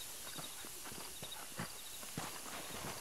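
Horses' hooves clop in Red Dead Redemption, a string of distinct close knocks at an uneven walking pace over a quiet game background.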